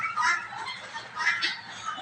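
Young turkey chicks peep and chirp in shrill, overlapping calls, close by and fairly loud, with no talking.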